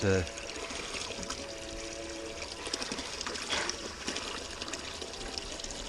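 An 1100 gph bilge pump running weakly on low current, pushing out only a thin trickle of water that pours and dribbles steadily, close by, under a voice talking.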